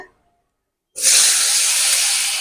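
Small diced potatoes dropped into hot oil burst into a loud, steady sizzle that starts abruptly after near silence and hisses on without pause.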